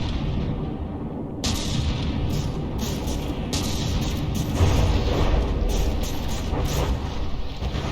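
Heavy battleship guns fire and shells strike a warship in the naval combat game From the Depths, with repeated booming blasts over a dense, continuous rumble of battle, loud and close with no talk.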